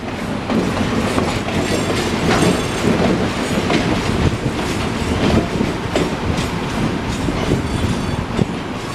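The Pumpkin Patch Express, a long excursion train, rolls past nearby at Dickey Road with a continuous loud rumble and rhythmic clickety-clack of wheels over rail joints, steady throughout.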